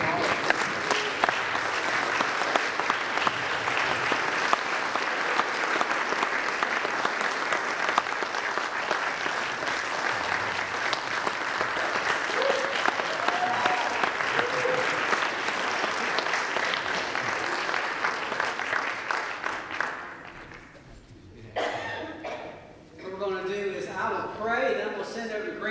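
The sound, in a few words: audience applause for performers Jacob and Chase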